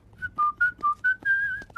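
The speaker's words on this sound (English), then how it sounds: "you don't whistle when you're sad" One person whistles a short, bright tune of clean, steady notes, about seven of them in quick succession, the last held a little longer, heard clearly and alone.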